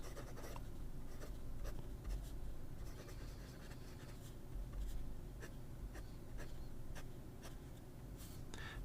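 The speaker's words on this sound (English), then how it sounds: "Very nice writing experience with these Schmidt nibs." Fountain pen fitted with a Schmidt nib writing on paper: a quiet, continuous scratchy glide of strokes with brief taps and lifts, close and faint, with no talking.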